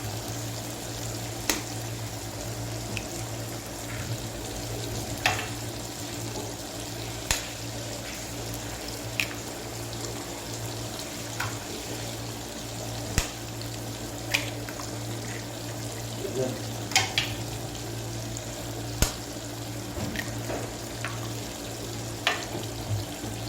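Egg frying with tomato in a pan, a steady low sizzle with scattered sharp pops and clicks of spatula or pan, fairly close, with no talking.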